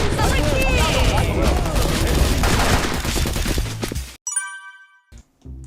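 Rapid gunfire crackles through a Sudden Attack match, loud and dense for about four seconds before cutting off, followed by a few chiming pickup tones and brief sparse sounds.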